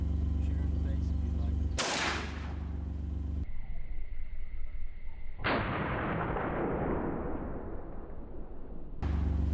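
Rifle shot taken at a doe during a hunt on a ranch, heard as two sharp loud reports that decay fast into rumbling echoes.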